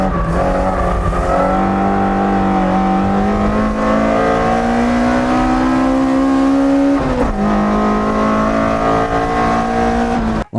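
Car engine revving steadily and loudly up close, rising pitch holding over several seconds with a brief dip and recovery, in a comparison of petrol and diesel engines.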